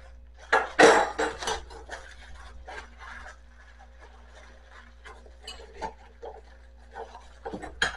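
Silverware being handled (spoons, forks and butter knives) gives clinking, rattling metal clatter in irregular bursts, loudest near the start and then lighter jingles scattered throughout.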